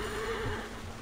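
A horse in Assassin's Creed Origins gives a short, clear whinny, moderately near, with a faint hoof thud beneath and no talk over it.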